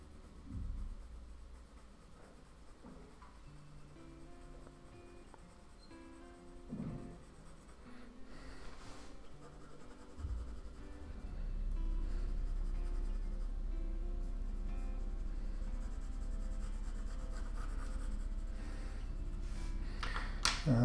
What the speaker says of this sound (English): I'm not really concerned about pencil stroke direction, so I'm just going to scribble it in however.